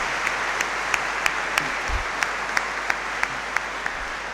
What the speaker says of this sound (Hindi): तो आए हम आखिर में सब काहिनों को तालियां बजाकर मुबारकबाद भी पेश करते हैं